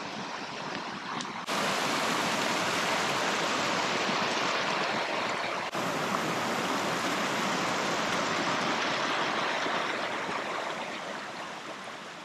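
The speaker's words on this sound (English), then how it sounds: "We're approaching our final creek crossing for the day" Sowaqua Creek flows loudly and continuously at a crossing, a dense broadband roar of moving water close by, with no voices.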